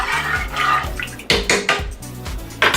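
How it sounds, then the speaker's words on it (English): A utensil stirs salted water in a metal pot, with bright scraping and clinking against the sides in quick irregular strokes, close and fairly loud, along with water swishing. "I'm gonna stir the water, make sure the salt spreads all around."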